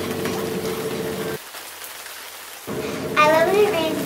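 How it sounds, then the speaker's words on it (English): Steady hiss of falling rain, close and continuous, broken by a brief quiet gap before resuming, with a voice briefly heard over it near the end. "Let's get started with some"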